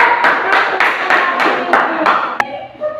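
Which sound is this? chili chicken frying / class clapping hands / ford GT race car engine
class clapping hands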